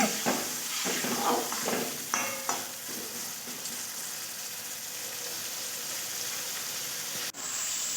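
Pui leaf pituli being sautéed in oil with chilli in a pan, a steady loud sizzle and hiss with stirring scrapes early on, continuing alone without talk.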